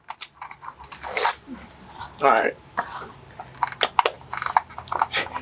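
Stiff plastic clamshell packaging of an Intel 9900K CPU is squeezed, crinkled and torn in short irregular crunching bursts, up close, with brief talk between them.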